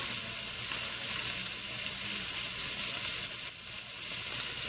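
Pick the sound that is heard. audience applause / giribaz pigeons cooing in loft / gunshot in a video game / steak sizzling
steak sizzling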